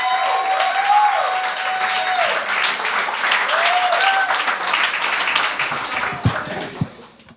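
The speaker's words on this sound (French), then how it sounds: "un tonnerre d'applaudissements pour Loïc Dubois!" Comedy show audience applauding as a comedian is introduced on stage, a thick burst of clapping mixed with whoops and cheering voices, loud at first then thinning out into a few final claps.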